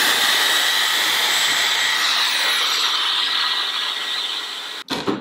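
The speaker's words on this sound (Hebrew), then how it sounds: "כי אני שמה פה את הג'ל ואז עם פן אני מייבשת את זה." A hair dryer blowing on gel applied to a wig gives a loud, steady, close airy whoosh that holds for several seconds, then cuts off abruptly near the end.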